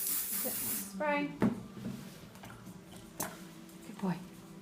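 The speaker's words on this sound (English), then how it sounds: "Spray." A short, close hiss from a spray can bursts out during grooming of a West Highland White Terrier, then stops as a person speaks and soft handling noises follow.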